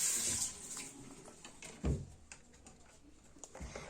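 Tap water runs while an aquarium is washed, splashing unevenly with a louder gush near the start and a sharp splash midway, then lighter trickles and small knocks; nobody speaks.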